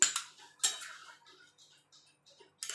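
Metal utensil clinks and scrapes against a cooking pot as mixed vegetables for milk shukto are stirred, with two sharp knocks early, quieter scraping after and another clatter at the end, and no voices.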